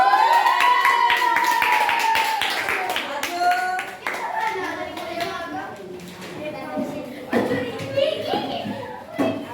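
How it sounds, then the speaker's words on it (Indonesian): Children in a classroom clap for a group that has just presented, a burst of quick hand claps with young voices talking and calling out over and after it. "Tepuk tangan untuk kelompok 1"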